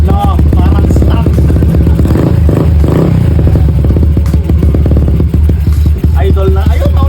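A Yamaha Nmax 155cc scooter engine bored to 183cc runs loudly and close, with rough clattering idle and brief revs, as people talk over it.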